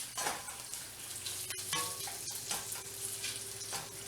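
Smoked sausage browns in a pan with a steady, close crackling sizzle, dotted with small pops and faint utensil scrapes, moderately quiet and without talking.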